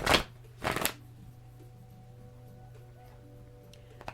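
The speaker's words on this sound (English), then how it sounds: "If the shuffling is too loud, take off headphones." Two quick riffles of tarot cards being shuffled sound close and crisp, the second slightly longer, followed by near-silence with a faint hum.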